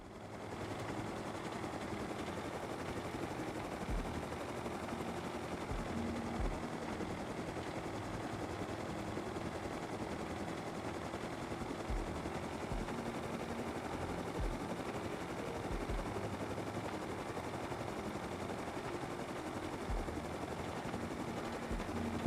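Helicopter flying in the video game Rust, a steady, fairly faint rotor and engine drone that runs unbroken for the whole stretch, with no talk over it.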